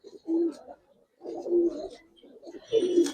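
A Giribaz pigeon, a Bangladeshi flying breed, gives three soft, low cooing phrases at close range with short silent gaps between them.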